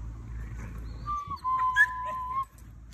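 A dog in a kennel yard gives a few high, drawn-out whimpers and yips close by, rising and wavering over low outdoor background noise.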